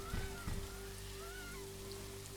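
Rain in the sci-fi video game The Riftbreaker, a steady soft hiss of falling drops under a low droning in-game hum, with a few faint synthetic chirps and two brief thumps early on.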